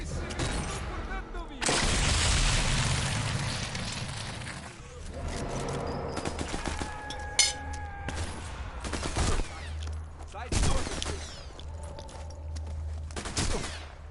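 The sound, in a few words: gunfire from enemies in video game Sniper Elite 4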